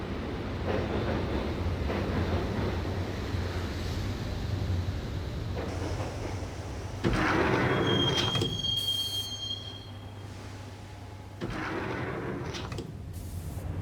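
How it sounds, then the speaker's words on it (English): Subway train rumbling along the track in the Max Payne game, a steady low roar with a thin metallic wheel squeal rising midway, doors and clunks shifting the din, no voices. "the train doors had already shut behind me, and I was in for the ride"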